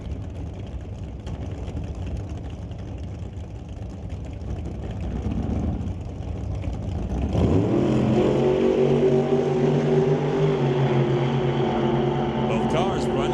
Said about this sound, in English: Both cars running down the racetrack.